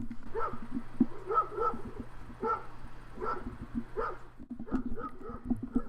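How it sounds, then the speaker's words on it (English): Dogs bark repeatedly in the background, a steady series of yaps roughly every second, moderately distant beneath a low hum. "that's my neighbor's dogs barking like maniacs"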